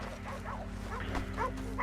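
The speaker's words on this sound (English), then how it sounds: "I'll keep these dogs at bay." Dogs barking and yelping in Red Dead Redemption 2, faint and distant under a low steady hum, with a few short scattered yips and whines across the clip.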